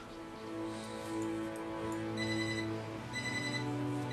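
A home telephone rings with an electronic, multi-tone trill, repeating bursts standing out over a steady background drone with no voices.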